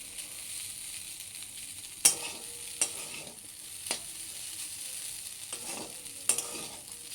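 Maggi noodles and potato being stirred with masala in a pan, a low sizzle underneath occasional scraping strokes and a few sharp clinks of a spoon against the pan, close by, with no voices.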